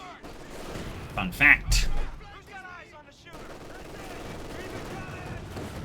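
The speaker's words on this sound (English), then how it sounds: "Armored car pushing back the machine gun here." Machine gun fire in Company of Heroes 2, a World War II strategy game, with an armored car pushing back the gun position: bursts of automatic fire and a couple of louder shots amid battle noise, under a commentator's speech.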